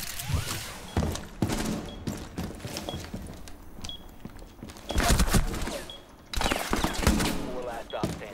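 Gunfire in Rainbow Six Siege comes as sharp, fast bursts and single shots, close and loud, mixed with in-game footsteps and thumps while a player talks over it.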